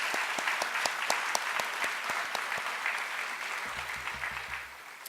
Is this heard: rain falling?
no